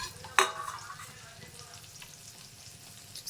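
Dried moyya fish fry in a pan over low to medium flame, a soft steady sizzle with a sharp clatter near the start and faint stirring throughout.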